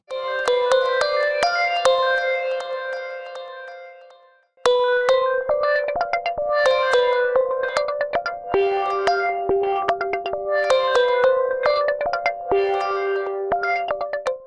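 A bright synth plays short plucked notes in a busy pattern through three parallel filters, the tone thick and resonant with a metallic edge, pausing briefly partway through.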